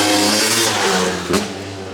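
A 2001 Honda CR250 two-stroke motocross bike revs loud and close, its harmonic engine note building hard, then easing off as the bike pulls away.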